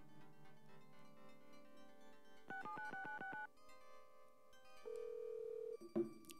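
A telephone rings in a dating-sim video game: a quiet game music bed, then a burst of rapid repeated electronic ring pulses, a held beep tone and a short click, with no talking.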